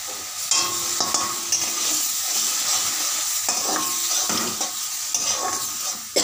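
Spice paste frying in a pan with tomato paste being added, a steady loud sizzle with repeated scraping stirs and occasional utensil clinks throughout.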